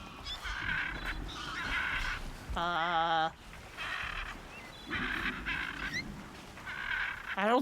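Strange mechanical bird calls in the video game Horizon Zero Dawn, a run of bursts in uneven groups with one sharp warbling squawk in the middle, close and prominent over a low ambient background.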